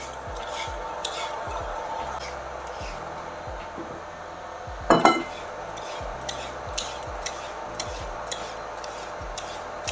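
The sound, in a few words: peeling carrots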